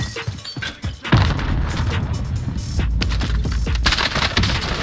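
Enemy gunfire in Warzone: several sharp cracking shots early on, then a loud heavy impact and sustained noisy roar of close-range fire and hits, with no talk over it.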